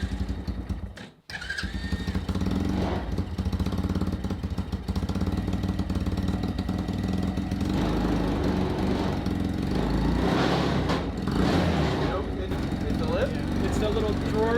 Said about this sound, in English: Crank this beast on up.